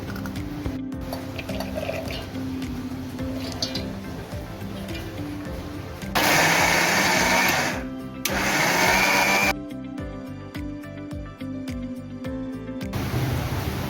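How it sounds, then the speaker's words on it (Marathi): A mixer grinder whirs loudly in short bursts with pauses between, coarsely grinding soaked chana dal; quieter kitchen sounds fill the gaps. "चण्याची डाळ घेतली होती आपण 4 तास भिजवलेली, तिला आता आपण मिक्सरमध्ये जरा जाडसर अशी वाटून घेऊया"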